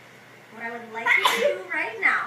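A child sneezes in a classroom, a single sharp burst cutting in while a teacher speaks to the class.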